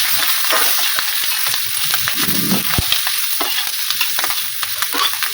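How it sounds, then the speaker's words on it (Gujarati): Capsicum peppers with turmeric and coriander-cumin powder frying in a pan over a low gas flame, a steady close sizzle with scattered stirring clicks and scrapes throughout, no voices. "આપણે તેને ધીમા ગેસ પર 2 મિનિટ માટે શેકી લઈશું।"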